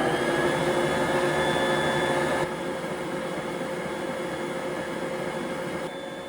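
A stand mixer runs on its lowest setting, kneading freshly milled whole wheat flour into sourdough bread dough with a steady, loud motor whir that drops slightly in level partway through.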